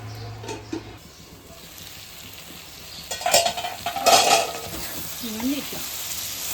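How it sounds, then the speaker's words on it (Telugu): A Rayalaseema-style curry of dried fish, drumsticks and raw mango is stirred in a pot: soft clinks and scraping bursts over a low simmering sizzle. "మళ్ళీ ఒకసారి ఇదంతా కలబెట్టేసి ఒక రెండు నిమిషాలు మళ్ళా మూత పెట్టుకోవాలి"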